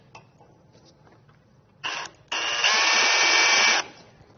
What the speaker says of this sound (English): I'll start this with the 1/2-inch bit.